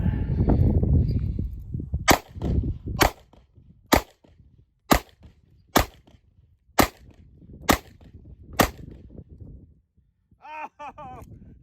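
Eight sharp gunshots from a Taurus G2C pistol ring out one by one at an even pace of roughly one per second, loud and close, with a brief voice just after.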